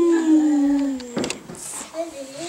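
A child imitates a puppy howling, with a long sliding wail followed by a few short yips and breaths, close and fairly loud.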